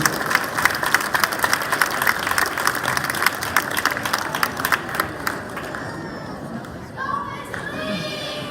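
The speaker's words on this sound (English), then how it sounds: "a big round of applause for these great hosts" A school year-end awards crowd applauds the hosts with dense, continuous clapping mixed with children's chatter, before the clapping thins out near the end.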